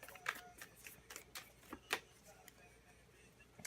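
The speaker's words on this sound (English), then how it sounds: "let's go on and finish shuffling for Leo." Tarot cards being shuffled give faint, quiet riffling and soft clicks in a few scattered bursts against a near-silent room.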